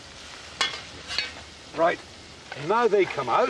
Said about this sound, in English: They look absolutely splendid, sizzling in the very hot, brilliant olive oil